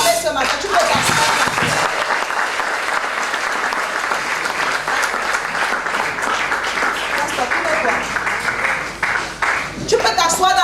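A church congregation applauds and cheers loudly and steadily during a prophetic banquet service, the clapping dense and sustained for about ten seconds with voices mixed into the crowd noise.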